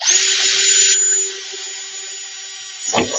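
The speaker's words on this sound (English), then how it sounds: "and drill your hole." A power drill bores holes for tie straps in an aquaponics build, a steady high-pitched whine for about a second that drops to a lower, quieter running tone, followed by a short rough burst near the end.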